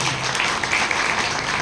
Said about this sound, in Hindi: एक बार इनके लिए ताली आप बजाओ सभी।